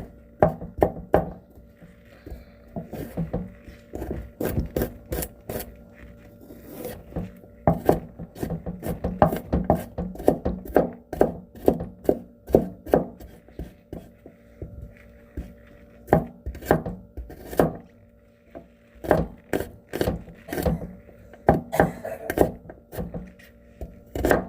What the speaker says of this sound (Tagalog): Slice the garlic.